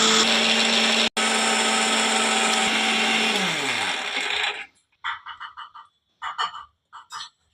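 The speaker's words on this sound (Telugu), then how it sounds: "మిక్సీలో వేసుకున్నదంతా గ్రైండ్ చేసుకునేద్దాము" A mixer grinder whirs loudly and steadily as it grinds masala paste for mutton curry, then winds down and stops after about four and a half seconds, followed by a few short, scattered clicks and knocks.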